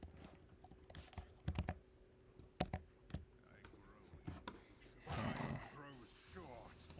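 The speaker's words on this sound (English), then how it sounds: "Sorry for the typing, guys." A computer keyboard being typed on during a Hearthstone game, with scattered sharp key clicks in small clusters, quiet and close, and soft speech near the end.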